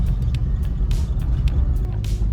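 A 4x4 vehicle on summer road tyres climbs a steep Carpathian mountain road without low range. A loud, constant low engine and road rumble fills the cabin, with occasional light rattles and knocks over it.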